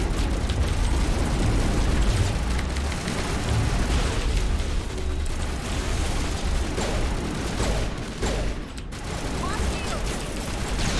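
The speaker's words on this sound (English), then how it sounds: "After a few shots, it did blow up." Explosion following gunfire in the Mass Effect 1 video game, a loud dense rumbling blast with crackling bursts sustained across the scene, mixed with game effects and some speech.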